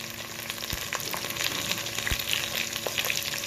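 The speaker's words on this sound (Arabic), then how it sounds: "كده انزل بالفراخ اللي عندي تتحمر شويه كده مع البصله" Chicken pieces fry with onion in a hot pan for a chicken kabsa, giving a dense, steady sizzle with crackles and a couple of stirring knocks, close up and without speech.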